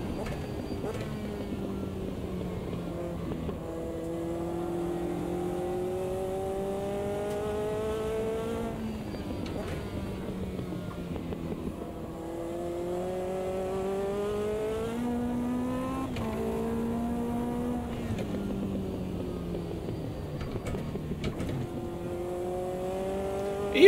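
A Lotus 620R engine in Automobilista 2 revs up and down in repeated gear-changing sweeps while driven through corners with gentle throttle, a steady, close, continuous mechanical drone with no talking.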